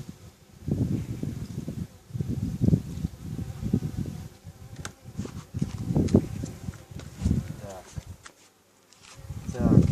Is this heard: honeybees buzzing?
yes